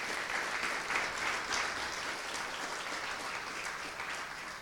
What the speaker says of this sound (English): let's give another round of applause for all of those folks